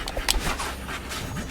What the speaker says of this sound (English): I hope the wonderful dog ASMR is really adding.